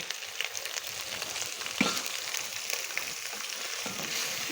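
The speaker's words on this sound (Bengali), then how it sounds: "এই মশলাগুলো আমি ভালো করে কষাতে থাকবো। এই যে মশলা কষাতে কষাতে যখন তেলটা উপরে চলে আসবে" Ginger, onion, garlic and spices sautéing in oil for a prawn curry, a steady close sizzle throughout with a single louder spatter near the middle, no voices.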